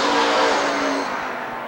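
Stock cars race at Rockford Speedway in 1994, a loud, steady engine roar with a dense full-throttle drone that eases slightly partway through as the pack passes close by.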